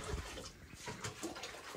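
Hot water from a pot heated over a fire pours into a small tub outdoors in the Guatemalan jungle, a quiet, continuous splashing gurgle lasting under two seconds.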